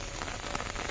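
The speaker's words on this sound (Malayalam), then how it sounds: "നമ്മൾ മഴയാണ് ഇപ്പോൾ, നല്ല മഴയാണ്." Heavy rain pours down at a resort in the evening, a dense, steady wash of drops drumming on surfaces without a break, with no voices.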